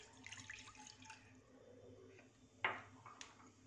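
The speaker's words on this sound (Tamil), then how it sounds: "பாத்திரத்தில் தண்ணி சேர்த்துக்கிறோம்." Water poured into a cooking pot for agar agar halwa, a short soft splash and trickle from a tap at moderate distance, fairly quiet over low kitchen hum.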